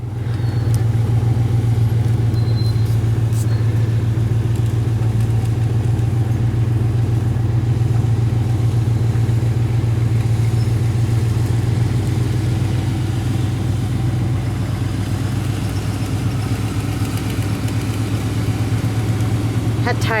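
Ford Bronco search and rescue truck rolling along a service road out of the woods, a steady low engine drone holding close and constant throughout with no talk.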